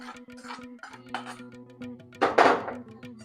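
Coconut rice being mixed with pepper powder and ghee, a spoon scraping and clinking against a metal pot in short bursts, one louder clatter near the end, close by with faint background hum.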